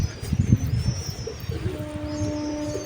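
Pet pigeons cooing close by, low throaty coos in a loose cluster over a busy room tone, with a faint bird chirp drifting in and out.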